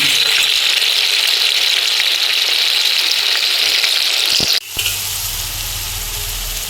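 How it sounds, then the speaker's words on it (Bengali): Ginger and garlic paste sizzles steadily in hot oil while being sautéed for a Bengali golda chingri prawn curry. The loud, even frying hiss stops abruptly near the end, and a quieter, lower cooking sound follows. "আদা বাটাটা দিয়ে দিলাম, রসুন বাটাটাও দিয়ে দিলাম, তেজপাতা লঙ্কাটা পরে দেবো। এবার একটু কষিয়ে নেব।"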